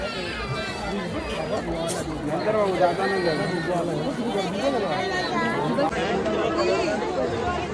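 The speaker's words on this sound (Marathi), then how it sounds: "खूप गर्दी आहे." Dense crowd chatter fills a busy Mhasa Jatra village fair in Murbad, a steady hubbub of many overlapping voices close by, with a few nearer speakers standing out and the babble continuing without pause.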